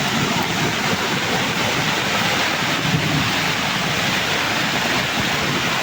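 Rushing muddy floodwater roars beneath a bridge after a hillside was bulldozed, a dense, continuous wash of turbulent water noise with some wind buffeting, loud and unbroken throughout.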